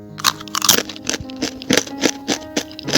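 Crunchy fried onion and chili cookies (kue bawang) are bitten and chewed up close, giving a rapid series of sharp, crisp crackling crunches in an uneven rhythm with no talking.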